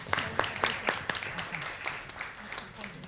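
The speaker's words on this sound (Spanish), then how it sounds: "Un aplauso fuerte para Patricia que nos acompaña" Scattered applause from a forum audience, individual claps distinct and fairly sparse, quieter and thinning out over a few seconds, with some murmuring voices mixed in.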